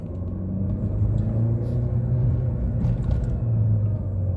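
A Mercedes-Benz C 180 automatic in sport mode, in second gear, gives a steady low engine rumble heard from inside the car, holding fairly even without a sharp climb.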